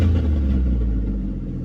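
A truck with a flex fuel 3.0 engine drives along, a close, deep steady engine rumble with low drone that eases slightly over the short stretch.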